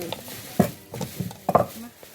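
Chicken and winter melon curry being stir-fried in a pan, with uneven scraping and clinking strokes of a utensil against the pan over a faint sizzle, close by.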